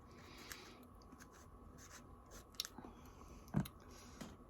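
Raw, unripe wild peach being chewed close up, with a few crisp crunchy bites standing out over quiet, steady mouth noise.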